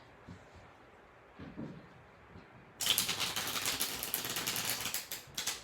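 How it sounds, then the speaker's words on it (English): A brief quiet rustle, then a dense, rapid fluttering patter of a trimmed mini tarot deck being riffle shuffled, close and fairly loud, lasting a few seconds. "So it actually rifle shuffles really nicely"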